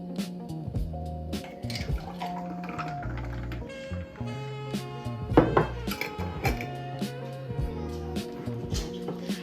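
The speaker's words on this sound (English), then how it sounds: "So now we're gonna take our coffee mug and our cup with the ice and just transfer it over." Coffee is poured from a mug into a cup of ice, a close, irregular run of splashes, clinks and rattling ice knocks with a brief louder clatter midway, no talking.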